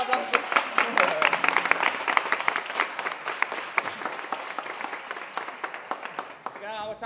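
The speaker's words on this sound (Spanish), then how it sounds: "Así que un aplauso." Audience applause at a carnival festival of comparsas and chirigotas in Arjonilla, a dense stretch of many hands clapping that holds steady for several seconds, then tapers off near the end.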